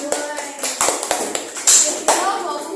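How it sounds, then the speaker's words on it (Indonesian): Classroom applause from elementary pupils, a burst of scattered hand claps with sharp taps spread across the moment, mixed with children's voices and chatter. "Tepuk tangan."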